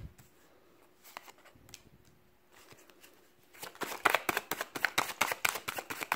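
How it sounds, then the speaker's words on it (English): Quiet, scattered card riffles at first, then a rapid burst of crisp flapping as a deck is shuffled up close. "I'm just going to shuffle the cards."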